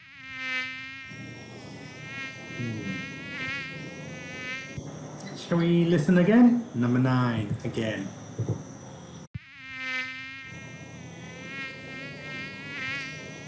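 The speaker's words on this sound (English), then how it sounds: "This is a mosquito." Mosquito buzzing in a thin, high, steady whine, heard alone at the start and again at the end, with a person speaking briefly in the middle.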